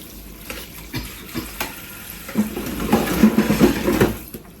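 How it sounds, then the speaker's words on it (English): Spoons rinsed under a running kitchen tap after dinner: water splashes and spatters while metal utensils clink and shift, the rush swelling louder and busier toward the end. "To rinse the ones which are ready. I rinse them here."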